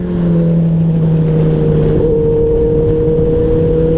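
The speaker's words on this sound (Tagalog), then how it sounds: "Oo, mabilis mga ano, mga big bike oh." Loud, close engine drone with a steady tonal hum as big motorcycles with dual exhausts roar past at speed, continuous throughout with a slight pitch shift midway.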